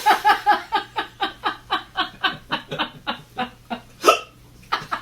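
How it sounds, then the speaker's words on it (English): A person hiccups over and over in a fast, steady series of about fifteen sharp, loud, close hiccups, closely spaced. They end with a stronger final gasp and a couple of softer ones. "I like the exclamation point of a hiccup at the end"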